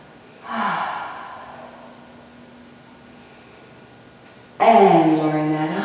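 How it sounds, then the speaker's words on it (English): Two breaths during a slow standing Pilates exercise: a soft inhale near the start, a long quiet gap, then a louder, fuller breath near the end. "Breathing."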